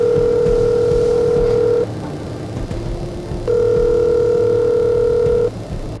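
An unanswered telephone call rings out as two long, steady ringback tones separated by a quiet gap, clear and loud over faint background hum.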